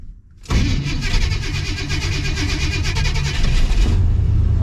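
On a farm during bean harvest and cover crop loading, an engine cranks and catches after the gas is pumped, then runs on at a steady, loud, rough idle.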